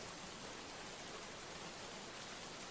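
Heavy rain pours down in a storm with wind, a dense, even roar of steady hiss and patter that never lets up, close and full.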